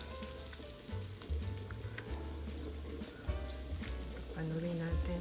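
Bitter gourd (ampalaya) sautés in the oil it has released, with a steady close sizzle and occasional soft stirring clatter. There are also low hums and intermittent background noise.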